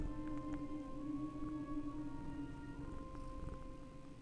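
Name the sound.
cat purring while petted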